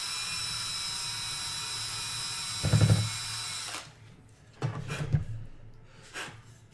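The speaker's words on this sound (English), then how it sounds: "This is kind of tricky because we're drilling up on a point" A drill bit bores into a part for a Four Star 40 model airplane, a steady high whine for nearly four seconds that cuts off, followed by a few short knocks and handling sounds.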